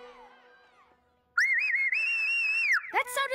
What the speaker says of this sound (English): You mean the really loud whistle?